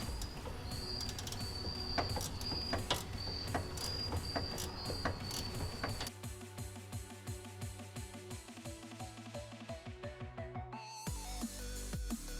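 A ratchet tightens the bottom 12mm bolt on a Perrin steering dampener on a Subaru WRX: rapid, close clicking over the whole stretch, turning into slower, spaced, heavier clicks near the end, with no talk.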